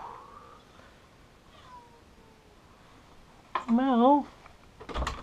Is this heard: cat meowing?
yes